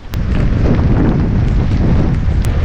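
Strong wind blows as Cyclone Mocha approaches Campbell Bay on Great Nicobar, a loud, continuous roar buffeting the microphone throughout, with no pauses or voices.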